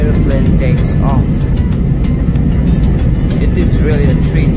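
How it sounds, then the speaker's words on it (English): An airplane takes off on a flight from Delhi to Kolkata, heard from inside the cabin: a loud, steady engine roar and rumble fills the clip, with cabin noise mixed in. "This is how an airplane takes off."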